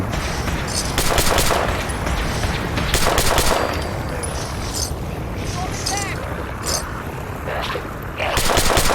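Bursts of automatic gunfire rattle in a Fallout 4 VR firefight, loud rapid volleys repeating every second or two with short pauses between them.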